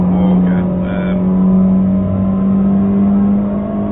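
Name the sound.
TCR touring race car engine at Mid-Ohio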